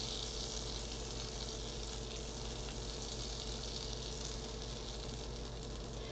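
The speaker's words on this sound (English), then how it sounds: "See, listen, it's on low and it's sizzling." Butter melts over low heat in a pan for soy sauce chicken, giving a steady, soft, continuous sizzle with no pauses, heard close up and alone.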